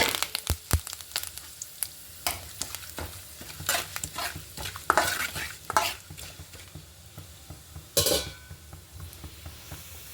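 Cumin seeds and curry leaves tempering in hot oil in a pan, a close crackling sizzle broken by repeated scraping and stirring strokes of a spoon against the pan, with no talking.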